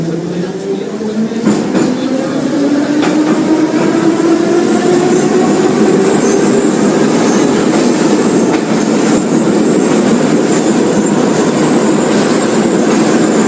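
A metro train runs through an underground tunnel with a loud, continuous rumbling roar, rising whining tones and faint rhythmic clatter from the wheels, steady and close throughout.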